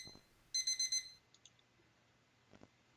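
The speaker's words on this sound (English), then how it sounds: "I predictably open my eyes and am greeted by the sight of my alarm clock having a seizure on the floor." An alarm clock that has fallen onto the floor goes off in a short burst of rapid, evenly spaced electronic beeps lasting about half a second, followed by a few faint chirps and a soft knock in an otherwise quiet room.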